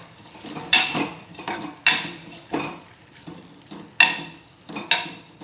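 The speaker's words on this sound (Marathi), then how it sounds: "आता मिक्स करून घेऊ आपण सगळी डाळ." A spoon stirs a thick mixed dal in a metal cooking pot, scraping and clinking in roughly regular strokes about once per second, close and clear with no talking.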